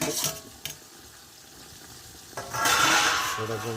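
Tomatoes go into a pan of onion-tomato gravy with water; a few knocks come first, then a loud, rising sizzle and bubbling that carries to the end, close by.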